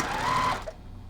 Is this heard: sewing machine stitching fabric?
yes